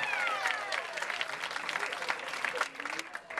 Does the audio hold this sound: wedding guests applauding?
yes